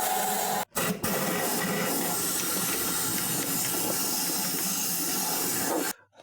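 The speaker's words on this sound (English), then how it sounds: "The way I did to clean and get the dust out from the inside of the frame was basically to blow it off with the compressed air." Compressed air blasts dust out of the inside of a Jeep frame, a loud steady hiss that drops out briefly near the start and then runs almost continuously before cutting off at the end.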